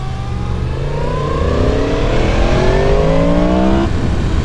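Yamaha MT-10 motorcycle with a cross-plane engine accelerating hard through the gears, a loud, close, continuous rising engine note with steadily climbing pitch, heard alone without talk.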